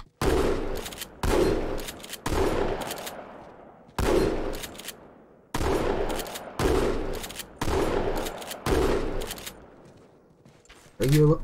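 Survivor Shotgun fired repeatedly in a Halo multiplayer game, with about nine heavy, booming blasts at spaced intervals, each followed by a short mechanical pump and a fading tail, close and loud.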